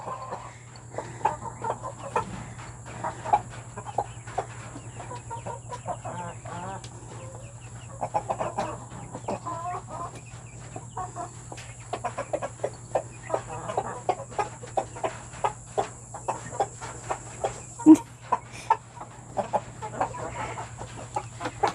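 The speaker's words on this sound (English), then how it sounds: "So let's look at these other chickens over here." Six-week-old Silkie chickens in a backyard coop cluck in short, scattered bursts over a constant low hum, fairly close, with no voices.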